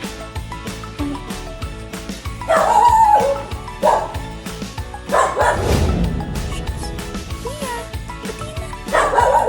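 A dog barks in several loud bursts, mixed with high yips and whimpering, with quieter pauses between outbursts.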